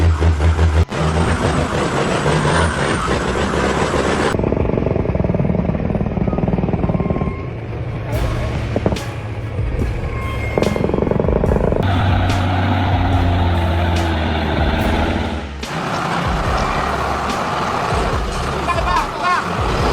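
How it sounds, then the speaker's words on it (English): A heavy log truck's engine roars loudly and continuously on a muddy road, its pitch and strain shifting as it labors, with rattles and clanks mixed in. "The roar of the engine pushes each heavy log forward"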